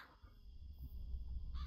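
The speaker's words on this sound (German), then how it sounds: "die Krähen, die sind fies, wenn sie dann so aus dem Nix auftauchen" Crows caw in the horror video game Sign of Silence, a harsh call rising over a low rumbling ambient drone, moderately loud and alone.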